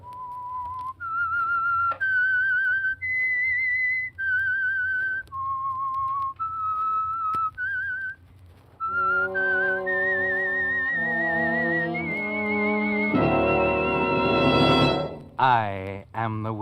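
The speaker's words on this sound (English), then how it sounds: "That whistle is your signal for the Signal Oil Program" Whistled theme tune from The Whistler radio program sponsored by Signal Oil, heard alone: clear, loud sustained whistled notes in a rising and falling melody, followed by a fuller orchestral musical passage with a dramatic swell at the end.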